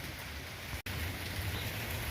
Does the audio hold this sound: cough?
no